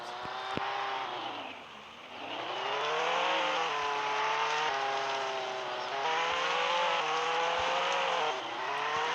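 Car engine in the Roblox Jailbreak video game, a steady revving drone that dips and then climbs again, with occasional tire squeal and faint clicks, no talking over it.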